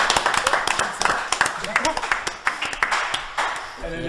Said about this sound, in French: On peut applaudir Sofiane.